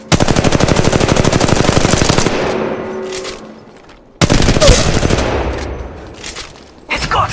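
Rapid automatic gunfire from a weapon in the mobile battle-royale game Apex Legends Mobile, two loud sustained bursts separated by a short pause and trailing off at the end, with no speech.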